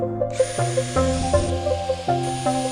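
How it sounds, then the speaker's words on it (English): A power drill drives SPAX screws through a wooden ledger board, the motor whining in short bursts that rise and fall several times, loud and close. "I use the 5 32nd bit to go through the wood."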